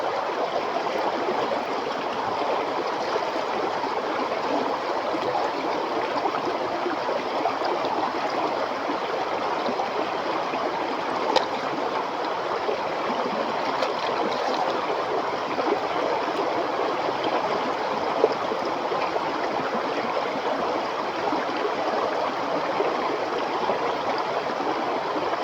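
The Riba River in Ilocos Sur flows steadily, a continuous broadband rush of water that stays even and unbroken from start to finish with no voices over it.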